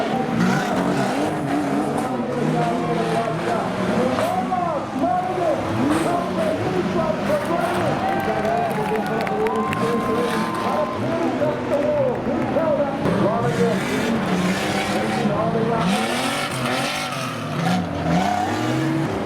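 Speedway race cars roar around a dirt oval in a continuous loud, dense engine drone with revving and sliding, while a commentator talks over the racing throughout.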